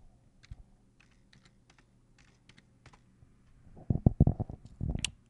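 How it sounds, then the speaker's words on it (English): Keystrokes on a computer keyboard while entering a search term into a search bar: a few faint, scattered clicks early on, then a louder, dense burst of rapid typing near the end, heard alone without talk. "you type in SpyBot."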